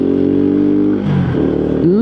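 A small WK Maveric scooter engine hums loudly and close, its buzzing tone dipping briefly before climbing again as it accelerates on a road.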